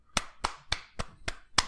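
Six sharp, evenly spaced hand claps in a large marble-covered room, loud and close with a short reverberant tail after each, heard alone with no talking.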